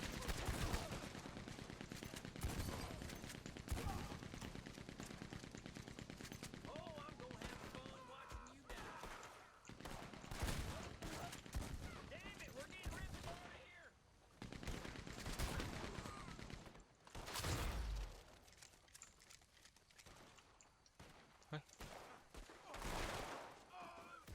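Machine gun fire in Red Dead Online near a farm: rapid bursts of gunfire crack repeatedly over a continuous background of shooting and chaos, loud and close, with sharp separate shots and a heavy blast late on.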